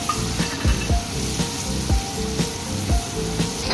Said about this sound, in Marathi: कांदा, लसूण आणि 2-3 काळी मिरी, त्याची पेस्ट आपल्याला चांगली फ्राय करून घ्यायची